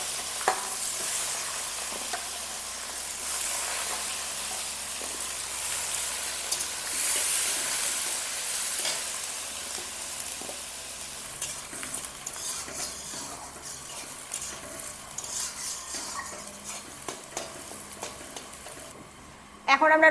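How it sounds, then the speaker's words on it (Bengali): Onions with cumin fry in a pan for home-cooked Bengali mutton kasha, a steady sizzle with scraping stirs running throughout, close and continuous. "পেঁয়াজটা লাল লাল করে ভেজে নেব"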